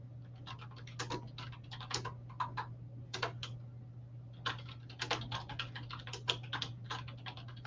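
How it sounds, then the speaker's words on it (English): Bursts of rapid clicking come from typing on a computer keyboard, with short pauses between runs of keystrokes. A steady low electrical hum sits under the close, crisp taps. "okay, so I got it all typed out now"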